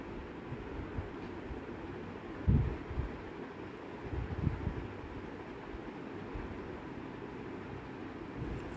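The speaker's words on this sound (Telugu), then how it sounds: "ఇది లక్నో స్టేషన్. ఇక్కడ ఒక 12-10 వరకు ఉన్నట్టున్నాయి ప్లాట్ఫామ్స్. చాలా పెద్దగా ఉంది రైల్వే స్టేషన్." Ambience at the large Lucknow railway station on a rainy day, a low steady rumble of trains and platform noise with a couple of louder clunks and swells, and no one speaking.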